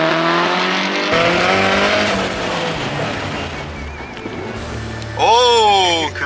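A car with a Nissan SR20 engine accelerates hard nearby, the engine rising loudly in revs and then shifting, with a sharp rising whine near the end and voices talking over it.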